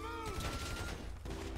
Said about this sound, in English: You get some great shooting on me now.